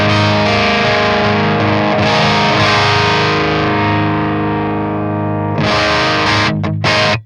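An electric guitar through an H&K Triamp MKIII on its British 60s clean channel rings out in a loud, chimey sustained strummed chord that fades, then a fresh strum and a quick cutoff at the end.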